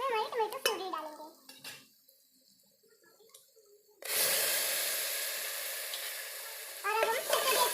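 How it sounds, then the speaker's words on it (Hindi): Tomato puree frying and being stirred in a pan for chole tikki, a loud steady sizzle starting midway and lasting several seconds, with someone speaking before and after and quieter kitchen clatter in the pauses. "अब हम इसमें इसे मिक्स करके अब हम इसमें हमारी टमाटो प्यूरी डालेंगे"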